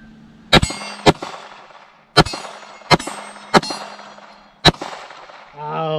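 Pistol shots from a Palmetto State Armory Dagger compact ring off a steel plate: six sharp, loud cracks with metallic clangs, spaced irregularly, followed by a brief burst of talk.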